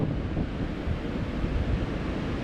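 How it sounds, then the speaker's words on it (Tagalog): Strong, storm-like wind at the seashore buffeting the microphone with a constant roar, mixed with the low rumble of surf, loud and unbroken. "Lakas na yung hangin."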